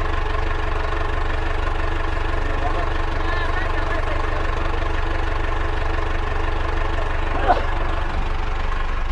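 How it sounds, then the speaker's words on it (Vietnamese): A diesel excavator engine idles close by in a smooth, even rumble that stays constant throughout, with faint voices in the background and a brief knock near the end. "Máy thì có vẻ là êm đấy nhỉ."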